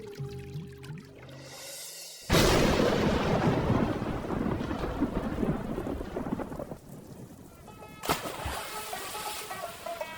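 In a cartoon, heavy rain pours down after a sudden loud crack of thunder, and another thunder burst breaks in near the end.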